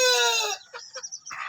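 Two native chickens give a loud, close call followed by a few short, soft clucks.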